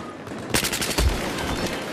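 Gunfire from the video game Battlefield 4 comes as a sharp burst of rapid automatic shots followed by a heavier boom and rumble. The shots are loud and close, with a little voice underneath.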